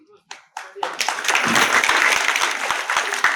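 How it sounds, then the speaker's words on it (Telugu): A crowd at an election rally in Raikal breaks into applause after a few brief sharp claps, then a dense, loud wash of clapping builds and carries on with voices mixed in. "చప్పట్ల ద్వారా మీరు జవాబిచ్చినందుకు ఖచ్చితంగా నేను చెప్తా ఉన్నా."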